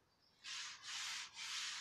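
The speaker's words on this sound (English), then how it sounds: "Now we've done that, we're going to get on with sanding." Three bursts of sanding on a wooden garden table, each a rough scraping hiss lasting about half a second, close and fairly loud, with short pauses between strokes.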